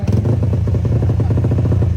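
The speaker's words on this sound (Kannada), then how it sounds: "ಬೈಕ್ ಸವಾರ ಕಿರಣ್ ಪೂಜಾರಿ ಅವರು ಟ್ರ್ಯಾಕ್ ಮೇಲೆ ಬೈಕ್ ಹಿಡ್ಕೊಂಡು ಬಂದ್ರೆ" A motocross bike on a race track roars close and loud, its engine holding a rough, pulsing drone with rapid throbbing firing beats through the brief moment.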